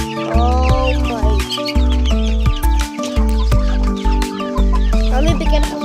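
Hen clucking near chicks in a backyard, repeated short clucks at close range, with a steady low hum underneath and no talk.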